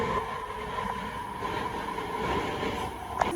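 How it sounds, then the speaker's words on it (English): A steady rumble and hum of an airport terminal shuttle train moving along its track, with faint wheel noise and a brief squeal near the end. "Here's the Terminal 4 train."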